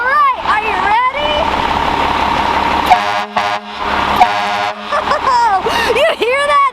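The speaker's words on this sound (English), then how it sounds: "the last thing we have to do before we finish this episode is listen to the FireTrucks air horn" A Port Angeles Fire Department fire truck sounds its air horn in loud, sustained blasts, near and powerful, with excited voices talking over and between the blasts and engine rumble underneath.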